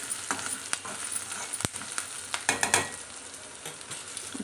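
Onions fry in a pan for a mango curry, giving a continuous close sizzle with stirring scrapes and a sharp knock from the spatula partway through.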